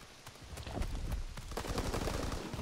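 Rapid gunfire from the World War II shooter Call of Duty: WWII, with dense bursts of automatic shots crackling one after another, loud and continuous.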